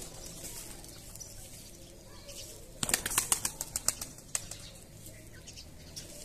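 A pigeon's wings flapping rapidly in a short flurry, clapping sharply and close, over quiet background noise.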